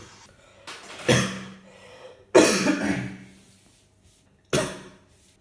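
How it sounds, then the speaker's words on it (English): Three separate coughs, dry and close, spaced a second or two apart in an otherwise quiet room. "So I've been coughing a lot over the last few days."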